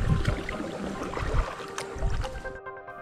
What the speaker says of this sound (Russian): Спортсмен-каякер плыл на своей лодке по верховьям реки Ваккамоу.